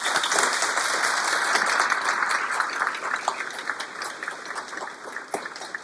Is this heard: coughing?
no